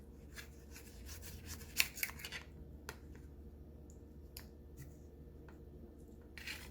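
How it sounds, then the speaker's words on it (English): Knife slicing through a homemade sushi roll, a few soft faint cuts and taps against a low steady background hum, close by with no talking. "If it's a little big like this, you might want to cut it again."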